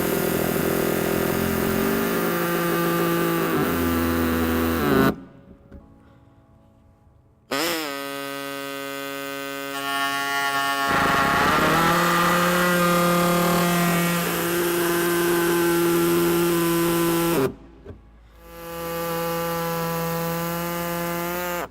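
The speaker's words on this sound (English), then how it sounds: "I'm going to be using the air tube with a cutter." An air-powered cutter saws through the plastic bumper fascia of a 2017 Subaru Forester, making a loud, whining grind in long sustained runs broken by short pauses and pitch changes as the cut proceeds.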